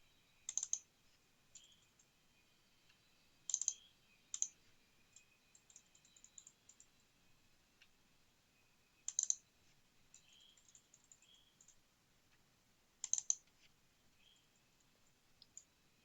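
Sharp mouse clicks while editing a spreadsheet in Excel, about five isolated pairs spread across a quiet stretch with a faint steady hum underneath, no talking.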